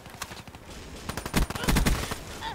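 Rapid gunfire from a weapon in Call of Duty: Black Ops 3 crackles in dense bursts, building louder toward the middle, with a faint voice underneath.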